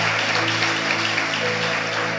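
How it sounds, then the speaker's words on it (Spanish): A church congregation applauds in a dense, continuous wash of clapping that fills the room at steady volume, with faint tonal music sustained underneath. "Vamos, aplauda si va a aplaudir."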